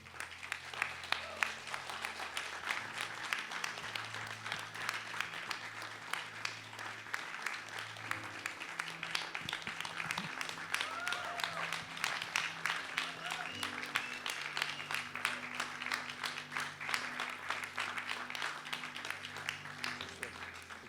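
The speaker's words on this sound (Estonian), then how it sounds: "teised tähistame seda ühe aplausiga" A church congregation applauds new members in a long, fairly quiet and even patter of many hands, with low tones from music or voices underneath at times.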